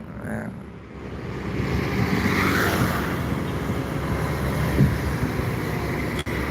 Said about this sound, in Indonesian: Tentang bus dan truk yang melintas sekitar Jalan Lintas Timur Palembang, Sumatera Selatan